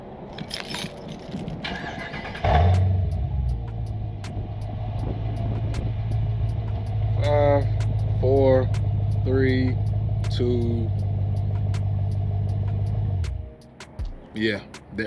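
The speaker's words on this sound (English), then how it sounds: "The truck does not want to stay cranked or crunk." Keys jingle before an 06 Dodge Durango's engine cranks and catches, rumbling for about ten seconds with a voice speaking over it, then abruptly stalls and goes quiet.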